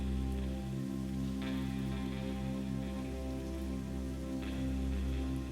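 Soft rain falls steadily without wind or thunder, a constant gentle patter on surfaces under a nimbostratus sky. It is even and faint, with no voices.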